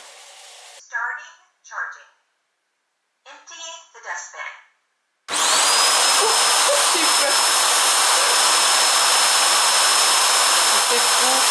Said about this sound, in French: il est en train d'aspirer par en dessous pour mettre dans le bac